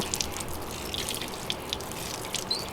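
Water gently poured over an LS engine during a wash, a soft, faint, steady trickle with scattered small drips and splashes, no voices.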